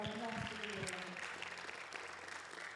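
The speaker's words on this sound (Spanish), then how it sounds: "Dele un fuerte aplauso al Señor." A church congregation claps together in steady, dense applause during a Spanish-language worship service, heard faintly from a distance throughout the short clip.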